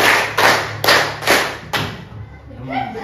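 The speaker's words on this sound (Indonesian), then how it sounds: "Tepuk 1, tepuk 2, tepuk 3, Tepuk 4." A class of children claps together in a school lesson, four loud, evenly spaced group claps, then the clapping stops and a voice talks.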